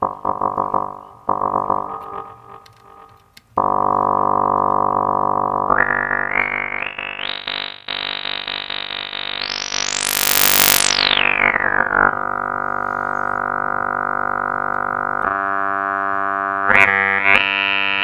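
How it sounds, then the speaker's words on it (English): Classic FM synthesizer tones for psytrance production: bright, harmonically rich sustained notes that shift pitch in steps, sweep sharply upward into a piercing peak, then settle into buzzing drones, loud and alone throughout. "FM sounds like these"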